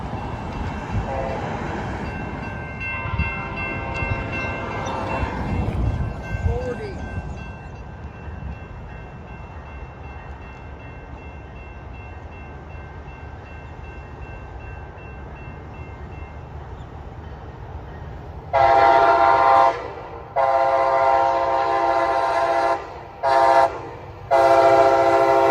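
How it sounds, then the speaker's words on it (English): Amtrak passenger train PL 4016 rumbles through a street crossing, its steady rolling roar followed near the end by several loud, sustained horn blasts broken by brief gaps. "In comes Amtrak PL 4016."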